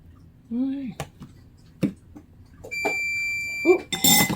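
Electronic beeps sound in a home kitchen while cornbread bakes, a high steady tone sustained for over a second, followed by a harsh buzzy burst, interspersed with speech and clattering.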